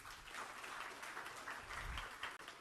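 An audience gives a brief, steady burst of applause, dense clapping that comes across as fairly faint and distant for under three seconds.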